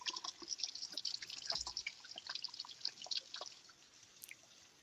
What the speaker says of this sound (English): I had to wash my hands.